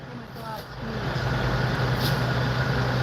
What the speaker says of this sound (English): Huge MCON truck.